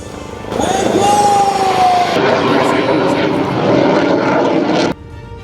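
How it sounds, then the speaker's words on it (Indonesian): Military aircraft, a Super Tucano turboprop and an F-16 fighter, touching down on a toll road used as an emergency runway: a loud, sustained engine roar with a falling whine, cutting off abruptly near the end. "Dua jenis pesawat, yakni Super Tucano dan F-16, meluncur rendah, menyentuh aspal tol, dan berhasil melakukan pendaratan dengan presisi."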